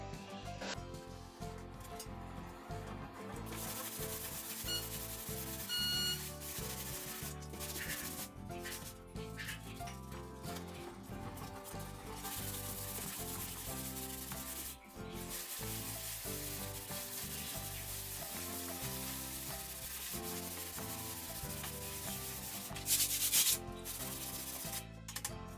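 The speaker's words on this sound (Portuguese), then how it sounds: "Mas aqui para lixar aqui é tranquilo, rápido, dá para fazer" Continuous rough sanding of an EPS foam ceiling, a loud steady rubbing scrape with no breaks that runs on at close range.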